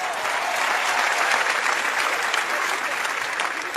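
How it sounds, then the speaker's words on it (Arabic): Steady, dense audience applause at a Moroccan comedy sketch, a continuous crowd of clapping hands at even loudness throughout, with no voices over it. "صفقوا على هاد القضيه هادي."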